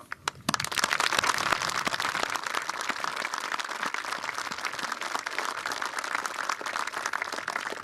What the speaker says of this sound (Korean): 자랑스러운 우리 군 장병들의 노고를 취하며 큰 격려의 박수를